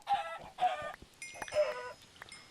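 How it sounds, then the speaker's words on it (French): Several short bursts of chicken clucking in a video game come in quick succession, with a higher squawk near the end, fairly close and moderately loud. "Et il y a vraiment plein de poulets en plus."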